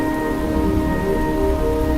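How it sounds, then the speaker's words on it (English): Steady rainfall in the video game Fantasian Neo Dimension patters continuously, loud and even, with a faint sustained tonal hum running beneath it. "At some point, the rain began to fall once more."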